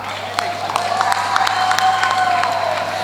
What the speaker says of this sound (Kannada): ಜೋರಾದ ತಪ್ಪಾಳೆ ಬರಲಿ